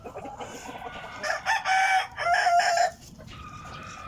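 Five-month-old Peruvian golden sweater and aluminum sweater gamefowl roosters in a backyard let out a loud, close crow lasting about a second and a half, surrounded by softer clucking.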